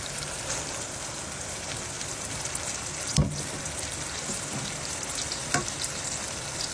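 Keema sizzles steadily in a pan as garlic and onion go in, a continuous crackling fry with a couple of sharp clinks from a utensil and no talking.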